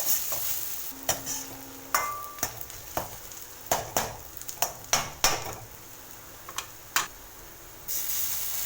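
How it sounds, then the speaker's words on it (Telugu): Vegetables for veg Manchurian being stir-fried in a pan, with a steady sizzle under repeated sharp scrapes and clacks of a spatula against the metal, close and without talk. "ఇలా వేసుకున్న వాటన్నిటిని ఫ్రై చేసుకోవాలి."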